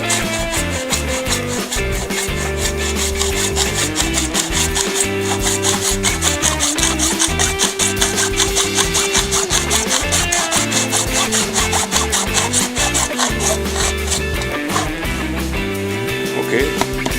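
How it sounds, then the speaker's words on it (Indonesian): A hand saw cutting through a used PVC pipe along marked lines, a loud, steady back-and-forth rasp that continues unbroken for the whole stretch with a faint tonal hum underneath. "Satu persatu semuanya dipotong sesuai garis."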